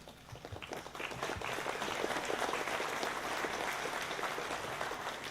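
An audience at a workforce center graduation ceremony applauds, starting with scattered claps and swelling into a steady, fairly loud round of clapping that continues to the end.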